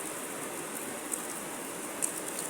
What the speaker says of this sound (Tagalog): Ayan, umuulan sa likod ko, lakas na ulan.